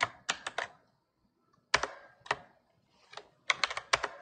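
Terminal command typed on a computer keyboard, with short bursts of crisp, close key clicks separated by pauses.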